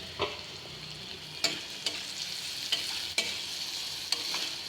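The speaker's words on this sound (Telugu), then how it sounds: "లైట్గా సిమ్లో పెట్టి వేయించుకుంటా" Carrot curry ingredients, including onions, fry in oil over a low flame with a steady soft sizzle, broken by several sharp spoon clicks against the pan; no one speaks.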